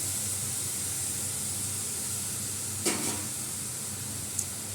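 Potatoes frying in a pan, a steady close hiss of sizzling oil with a brief clatter as they are added, and no talk.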